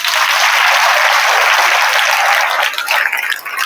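Dense crowd applause at a fire service week drill, loud and steady before thinning out and tapering toward the end.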